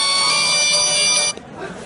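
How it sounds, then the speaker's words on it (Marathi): A mobile phone ringtone plays loudly and steadily for over a second, then cuts off abruptly, followed by faint background noise; the call is a pump alert reporting a phase fault. "आता या मोबाईलवरती थोड्या वेळात फोन येणार"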